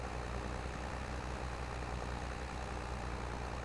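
Tractor engine in Farming Simulator 25 running at a steady low drone, a continuous heavy rumble with even loudness throughout and no voices.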